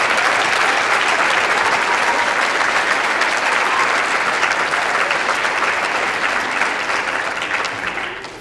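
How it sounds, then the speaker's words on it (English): Sustained applause from a concert audience at a middle school awards concert, dense and steady for several seconds before tapering off at the end, with no talking over it. "So if we can give a big round of applause to the Music Association."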